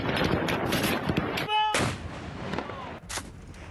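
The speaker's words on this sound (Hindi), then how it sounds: "पंजशीर में फायरिंग की आवाज आप सुन रहे होंगे" Gunfire crackles in the Panjshir area of Afghanistan, with sharp shots and bursts spread over a constant noisy outdoor background, plus a brief tonal whine in the middle.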